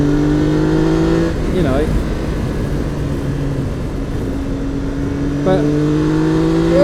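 Triumph Tiger 1200 motorcycle engine hums loudly while riding and its pitch rises and falls with throttle changes, with a rider talking over the engine and wind noise.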